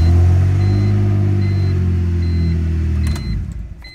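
A BMW E46 325i Touring engine, just converted to manual transmission, runs with a steady low rumble up close, settling and then cutting off near the end.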